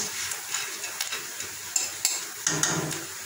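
Steady sizzling and bubbling of food frying in a hot wok, with a few light metallic clinks from stirring, no voices.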